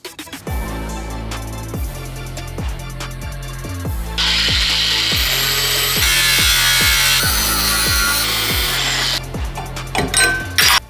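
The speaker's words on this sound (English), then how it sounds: "chop it up and make a metal sleeve that fits around the motor" A power tool cuts metal for a motor sleeve in a fast series of rhythmic strokes, rising into a sustained harsh, screeching grind before tapering off.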